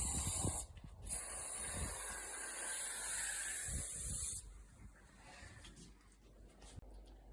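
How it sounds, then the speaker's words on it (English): Spray is applied across the top and down an Urban-Trac blind with aluminium track, a steady hissing burst running for about four seconds, then thinning into fainter, broken spritzes. "I'm going to spray the top and all the way down the blind"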